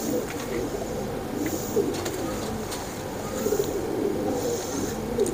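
A Royal Teddy pigeon cooing in a series of soft, low, repeated rolling coos over a faint background hiss, fairly close and moderately quiet.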